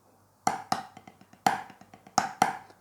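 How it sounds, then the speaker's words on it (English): Drum six-stroke roll played backwards then flowing into the inverted pattern: crisp accented strikes with quick soft taps between, close and alone, in a short practice phrase. "that's 1 backwards and then go right into the inverted."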